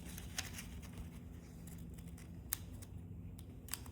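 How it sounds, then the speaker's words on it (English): Scissors trimming a paper sewing pattern during pattern drafting, a few quiet, close snips and paper rustles spaced apart in an otherwise hushed room. "just use my scissors to trim it"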